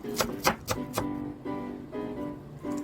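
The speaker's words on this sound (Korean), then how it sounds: "쪽파나 실파는 아주 작게 썰어주세요." Green onions being finely chopped with a knife as garnish for acorn jelly rice soup: four quick, sharp knife strikes close by at the start, then sparser taps over a steady tonal background.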